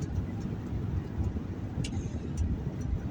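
Steady low rumble of road noise inside a moving car, an even drone with faint ticks and no one speaking.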